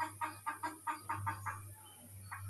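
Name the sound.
chickens clucking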